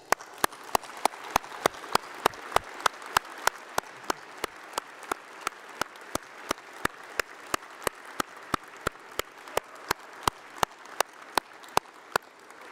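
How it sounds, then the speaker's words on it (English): Audience at a university graduation ceremony applauds family, friends and tutors, a steady roomful of clapping punctuated by regular sharp, loud claps close to the microphone. "let's have a round of applause for all those people, your family, your friends, and your tutors who've supported you"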